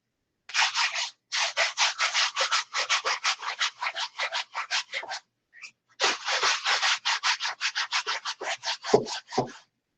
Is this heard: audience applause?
no